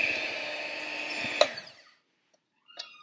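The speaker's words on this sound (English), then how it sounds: "Then we're gonna beat this mixture." An electric mixer whirs steadily through eggless carob cake batter for about a second and a half, then stops with a clunk, followed by silence and a faint clink.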